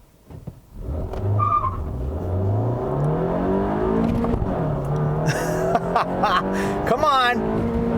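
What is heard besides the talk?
2018 Honda Fit Sport engine induction howl while revving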